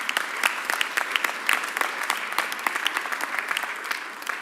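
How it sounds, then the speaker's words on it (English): A crowd at a Philadelphia mayor's news conference applauds, a dense patter of claps that holds steady for several seconds with no voices on top. "So please give my members a real big round of applause."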